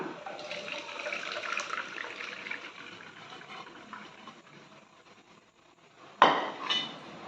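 Bone soup being strained through a utensil in a home kitchen, with soft metal clinks and pouring liquid, then a sharper clatter near the end.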